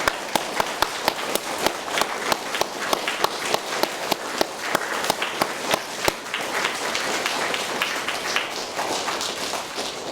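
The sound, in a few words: schoolchildren clapping at prize giving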